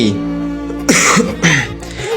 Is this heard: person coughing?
yes